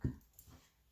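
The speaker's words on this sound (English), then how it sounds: "The noise you hear in the back is my dog." A dog that gets anxious during storms gives a short huff right at the start, low and somewhat muffled in the background, followed by near silence.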